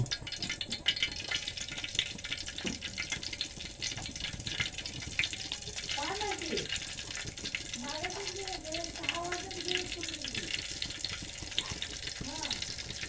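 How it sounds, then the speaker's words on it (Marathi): Mustard seeds crackle and splutter in hot oil in a pan, a busy, fizzing patter of small pops running throughout, with a voice speaking briefly in the middle. "आता तेल तापलं आहे आपलं तर आपण लगेच त्याच्यात राई टाकू"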